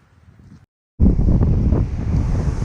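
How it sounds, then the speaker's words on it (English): Strong wind buffets the microphone on a breezy North Sea beach in Norfolk. A roaring gusty rush breaks in after a short silence and carries on steadily, with surf underneath. "It's a little bit breezy than I thought, but actually it's not too bad."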